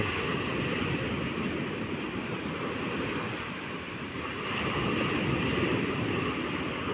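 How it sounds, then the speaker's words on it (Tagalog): Strong sea waves pounding the shore during a typhoon, a continuous heavy roar of surf mixed with wind buffeting the microphone, loud and unbroken with a slight dip midway. "alon po na sobrang lakas"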